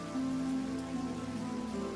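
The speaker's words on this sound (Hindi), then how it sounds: "बारिश बहुत ज्यादा तेज हो गई है" Heavy rain falls in an animated story scene, a steady close hiss of drops with a faint underlying tonal hum and no voices.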